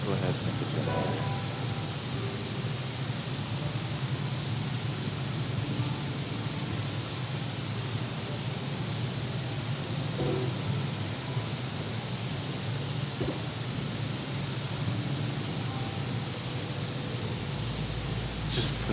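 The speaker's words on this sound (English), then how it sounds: "Into the rain with you." Steady, dense rain falls in the Craftopia video game, a broad continuous hiss of downpour with faint scattered taps and clicks, filling the whole stretch evenly.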